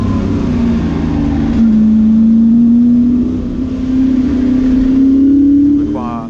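Ford Mustang race cars, led by the number 9 car, come through at the Silverstone Classic, a loud sustained engine drone rising slowly in pitch under a commentator talking.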